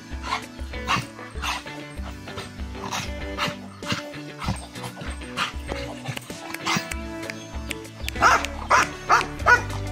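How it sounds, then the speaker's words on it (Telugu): A village dog barks repeatedly in loud, close bursts, with panting and soft whimpers between the barks, amid rural outdoor background. "ఇంతకీ ఈ కుక్క ఏ బ్రీడో చూడండి"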